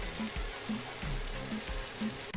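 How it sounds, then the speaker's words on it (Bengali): Egg soya noodles frying in a pan, a steady close crackling sizzle with soft repeated stirring or tossing sounds at a regular pace, moderately loud and without talk. "এবার আমি নুডলসটা এর সঙ্গে অ্যাড করে ভালো করে ফ্রাই করে নেব"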